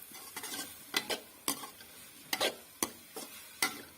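Boiled chicken pieces are mixed into spaghetti in a pan, with a series of distinct, fairly regular spoon scrapes and taps against the pan over a faint sizzle.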